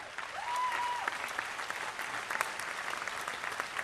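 Applause rises from a large audience at a university undergraduate commencement as alumni stand, a dense, fairly distant wash of clapping with a brief whistle near the start and a few sharper claps along the way.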